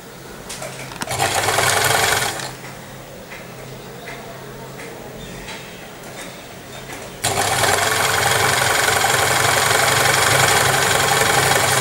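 A sewing machine stitches the waistband of a Patiala salwar, its close mechanical whir running in a short burst, easing off, then settling into a loud, continuous stitching run.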